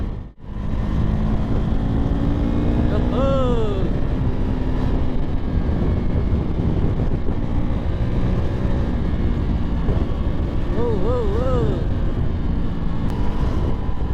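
Two motorcycles, a KTM RC 390 and a Royal Enfield Interceptor 650 BS4, ride along a highway, giving a steady loud engine and wind roar that runs the whole way with no pauses.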